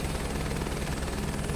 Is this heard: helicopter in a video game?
yes